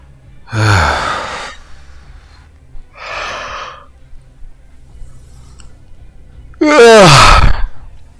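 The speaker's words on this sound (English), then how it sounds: "sorry, I just had to yawn" Three drawn-out yawning breaths from one person, each a breathy swell with a moaning voiced edge, the last the loudest and longest, separated by pauses with faint low background hum.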